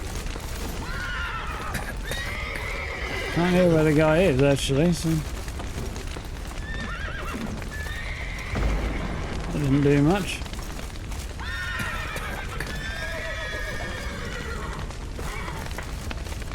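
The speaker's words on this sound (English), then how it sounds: "There go the horses." Horses neigh and whinny amid hoof clops in The Witcher 3: Wild Hunt, two loud whinny bursts standing out over game ambience and crashing noise while someone talks over the scene.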